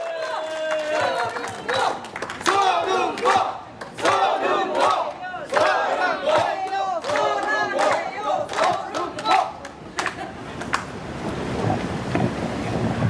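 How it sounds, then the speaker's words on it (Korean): Rally crowd of cheering and applause, dense and loud throughout, with shouts rising over a continuous roar of clapping outdoors. "박수와 함성으로 맞이하겠습니다"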